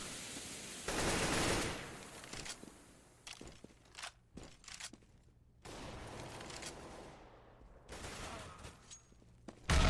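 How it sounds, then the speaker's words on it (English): Bursts of gunfire and a grenade blast in a competitive online shooter match, with loud rapid volleys, scattered single shots and footsteps between quieter gaps, ending in a sharp burst. "Luigi with a fantastic shot onto Schnicker's top mid there"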